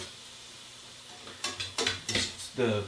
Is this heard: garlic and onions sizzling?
yes